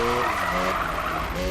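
A Mazda RX7 drifting in the racing game Need For Speed 2015, its tires skidding in a continuous loud squeal over a steady engine drone, unbroken and close.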